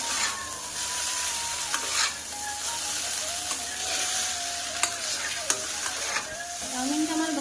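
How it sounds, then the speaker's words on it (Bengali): Chowmein noodles stir-fry in a pan, a continuous close sizzle punctuated by sharp scraping and clinks of a spatula stirring every second or so. "চাউমিনটা আমার ভাজা হয়ে গেছে দেখুন"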